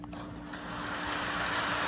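A Lionel model train starting up on its track produces a steady mechanical hum and whir that swells slightly over two seconds, alone and fairly quiet.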